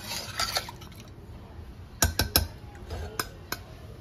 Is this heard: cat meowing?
no